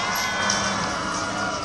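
An outdoor crowd at the Olympic torch relay outside the Mini plant in Oxford cheers and shouts loudly, a steady wash of raised voices and whoops.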